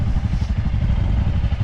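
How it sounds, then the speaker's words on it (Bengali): Two motorbikes idle steadily side by side after a cold start on a Spiti trip near Chhitkul, a low, continuous engine rumble with a faint clattering beat, close and loud, with no talk. "এখন বাইক দুটো অন্তত 2 মিনিটের জন্য কোল্ড স্টার্ট থাক।"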